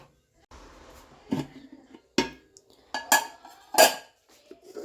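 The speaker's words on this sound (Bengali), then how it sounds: "আর এই উনানে ভাত বসিয়ে দেব।" A pot of rice set down on a stove in a home kitchen, heard as a few sharp metallic clanks and clatters of pot and utensils with quiet gaps between them, close by.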